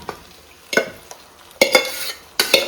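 Pre-cooked cassava being stirred through a fried coconut and spice masala in a pan, with several distinct scraping spoon strokes over a soft sizzle, close and fairly loud.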